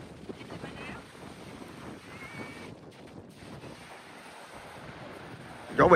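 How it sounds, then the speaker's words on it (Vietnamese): Sea wind blowing across a boat off the coast of Taiwan near Taipei, a steady rushing roar buffeting the microphone that swells into a loud gust at the end, with faint voices in the background. "Gió biển, gió biển."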